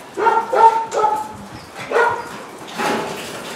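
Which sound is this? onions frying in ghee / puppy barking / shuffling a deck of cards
puppy barking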